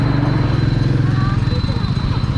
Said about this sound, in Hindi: बाकी बाइक तो मैं आज आराम से ही चलाऊँगा।